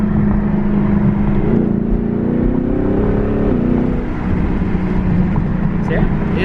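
A Camaro SS fitted with a loud aftermarket MBRP exhaust drones and revs while driving, with a steady low engine roar, a rising rev in the middle and wind noise over the top.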